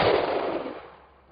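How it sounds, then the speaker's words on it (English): One loud 12-gauge shotgun blast loaded with birdshot, fired at flashlights about 15 meters away, a sharp boom that decays over about a second with no talk. "shooting both flashlights with 12-gauge birdshot at approximately 15 meters"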